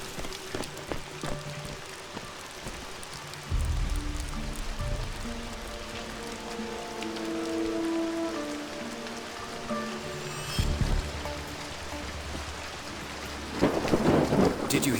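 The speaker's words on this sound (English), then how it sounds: "It's just the thunder." Steady rain hisses throughout a thunderstorm scene in GoldenEye 007: Reloaded, with deep rolling thunder swelling in the middle and a sharper crack near the end, no voices over it.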